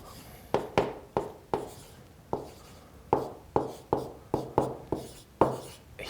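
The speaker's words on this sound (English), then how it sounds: "So let's write that down." A pen or pencil writes on paper in a quiet room, a steady run of short scratchy strokes, about a dozen sharp close taps and scrapes with brief pauses between them, no speech.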